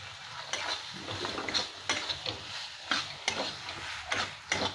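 Spice masala with melted tomato, released oil and a handful of fried onions sizzles in a pan for egg biryani, with repeated scraping strokes of a spoon stirring it at a steady, close rhythm.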